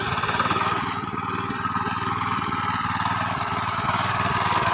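A power weeder used for ploughing and levelling runs in a farm field, its small engine chugging steadily and loudly at close range with a constant droning rattle and no pauses.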